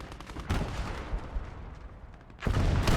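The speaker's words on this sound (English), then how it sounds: "We are firing through a tree" Tank gun and battle fire in Gates of Hell: Ostfront, a WWII tank battle with shots fired through a tree: a dense, loud rumble of gunfire and impacts, surging at the start and again near the end.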